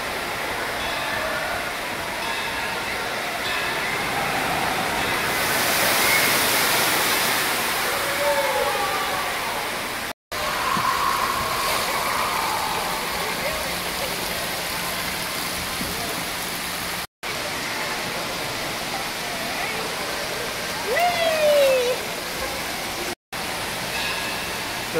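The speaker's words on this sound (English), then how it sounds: "This is a pretty cool indoor water park." Water sounds at Wild Bear Falls, an indoor water park in Tennessee, a constant broadband rush of splashing and falling water echoing in a large hall, with faint distant voices and occasional squeals beneath.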